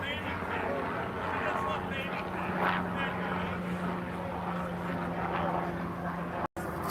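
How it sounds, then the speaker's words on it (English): A police helicopter hovers over a neighborhood outside a detention center, its steady low rotor drone and engine rumble filling the background continuously at moderate distance, with broadband noise throughout. "We got a chopper coming."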